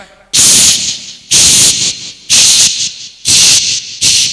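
At a stage comedy show, a voice imitates a pressure cooker whistle: four loud, hissing bursts about a second apart, each a breathy high-pitched rush with short pauses between.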